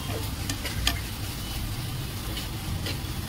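Cashews and spices being lightly stirred in a frying pan, giving a steady close sizzle with a few quick scraping stirs near the start.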